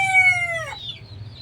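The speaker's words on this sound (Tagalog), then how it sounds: "sisiw ng pabo" Newly hatched turkey chicks peep in a bright, rising chirp that breaks off, with soft low poultry murmuring and clucking running underneath on a small home farm.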